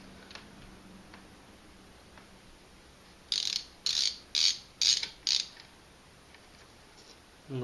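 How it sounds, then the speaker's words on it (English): A 1/2 inch socket on a 1/4 inch drive ratchet loosens scope rings from a rifle base: five evenly spaced ratcheting clicks, close and crisp, following a quiet stretch, with no voices. "we're going to take a 1/2 inch, 1/4 inch drive socket, and we're going to loosen our rings from the base"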